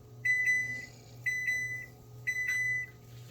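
A kitchen oven signals that preheating is done with three evenly spaced pairs of short, bright electronic beeps over a low background hum, clear and close with no talking.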